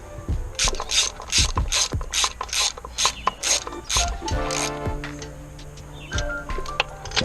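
A ratchet threads 10mm bolts into an engine intake manifold, producing a clear series of rapid ratcheting clicks in quick bursts, with a short pause between strokes.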